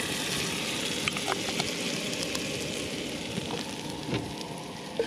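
Melted butter sizzles and fries steadily in a pan as flour goes in, a continuous close crackling hiss with small pops, no voices.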